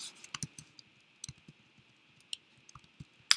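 Sparse, light keystroke clicks come while numbers go into a spreadsheet on a computer keyboard, an irregular run of close taps with short pauses and one sharper click at the end.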